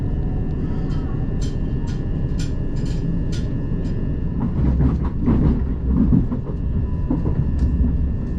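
A Class 375 electric train runs on rails toward Sevenoaks, heard from on board as a loud, steady rumble with rhythmic clatter over the track joints.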